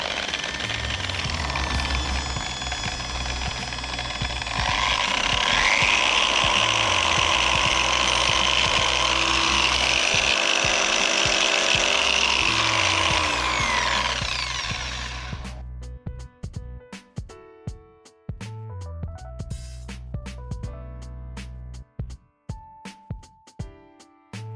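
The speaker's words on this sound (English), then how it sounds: "On the first speed setting it wobbles a bit but becomes more balanced as you increase it." A Burisch HDR2500 dual action polisher runs with a steady loud whirring hum that rises in pitch and intensity midway, holds, then cuts off, leaving a few faint clicks and knocks.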